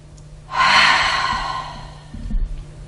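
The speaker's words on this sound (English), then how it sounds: "watch yourself take this deep breath" A person takes one big, deep, audible breath, a loud rushing inhale that tails off slowly and is followed by a softer exhale.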